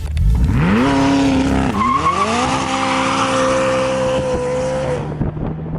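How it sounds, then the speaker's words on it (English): A McLaren 600LT performs a rolling burnout, its tires squealing loudly and steadily for several seconds over a rising engine note that shifts pitch once before tailing off. "these 600LTs have a rolling burnout mode"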